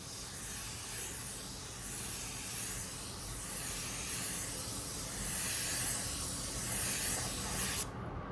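A PRD-815 sprayer laying down a coat of material, a steady close hiss of spray with slight surges, continuing for several seconds before cutting off abruptly near the end.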